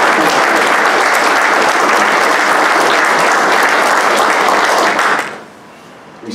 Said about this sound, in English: Give Paul a round of applause.